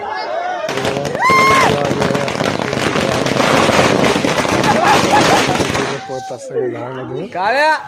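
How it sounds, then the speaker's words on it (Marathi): Firecrackers and bombs burst in a dense, crackling barrage at a village welcome, loud and continuous for several seconds, then thin out into scattered pops while people talk and shout nearby. "आणि बघू शकता आता फटाकडे कसे फुटतात."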